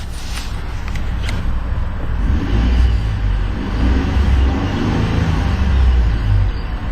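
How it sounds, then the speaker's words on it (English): A new 2011 Ford F-150 XLT pickup's EcoBoost twin-turbo engine sits idling, then revs up in two rising, rumbling swells, loud and close, with no talking. "And let's go ahead and rev it up a couple times."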